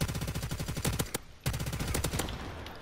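Rapid automatic bursts from a Fang 45 in Modern Warfare Remastered on the Crash map, two loud close strings of fast shots separated by a brief pause.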